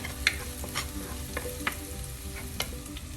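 Turmeric powder and chopped green chillies sautéing in oil in a pan, a soft continuous sizzle broken by a few sharp spoon scrapes and clicks against the pan.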